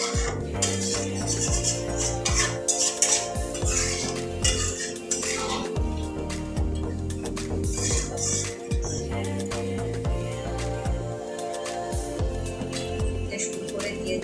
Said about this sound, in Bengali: মশলাটাকে ভালো করে মিশিয়ে নেব।